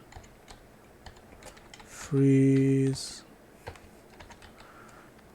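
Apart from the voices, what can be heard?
typing on a computer keyboard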